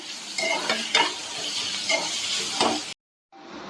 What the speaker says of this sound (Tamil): அடுப்பை ஹை ஃப்ளேமில் வச்சுட்டு வெங்காயத்தை நல்லா வதக்கிக்கோங்க